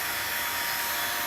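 A vacuum pump evacuating a Lennox XP14 heat pump through a four-port manifold gives a loud, steady, close motor hiss and whir that runs unbroken.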